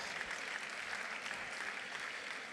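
Steady clapping from a conference audience at a political plenary session, an even, moderately loud wash of applause lasting throughout.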